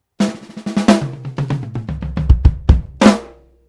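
A vintage three-tom drum kit, sampled in Superior Drummer 3, with tuned toms, a descending tom fill rolling from high to low, then kick hits and a final crash, played up close.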